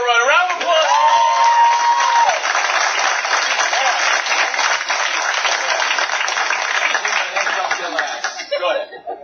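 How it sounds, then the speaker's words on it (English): Steady, loud applause fills a business promotion event in Columbus, continuous clapping from an audience with a few voices and a brief whistle-like call early on, tapering off at the very end. "A round of applause"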